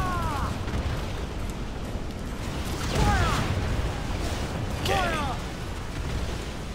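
Ship cannons fire in Assassin's Creed IV Black Flag, three booming shots spaced a couple of seconds apart over a constant rumbling background at sea.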